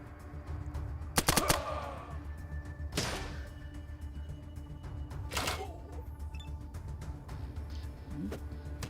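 Gunfire in ATOM RPG, a quick cluster of sharp shots followed by a few isolated cracks spaced apart, moderately loud against a low humming game background.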